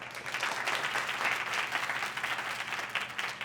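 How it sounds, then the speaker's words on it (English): Audience at an industry merit award ceremony clapping for a colleague, a sustained, even burst of many hands at moderate distance, with no voices over it. "you can clap for him"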